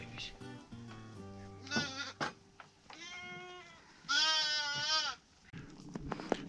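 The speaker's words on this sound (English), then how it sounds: "So now we're gonna feed these sheep." Sheep on a farm bleat repeatedly before feeding in winter, loud wavering calls close by, with a long sustained bleat near the end, mixed with other animal noises and brief speech.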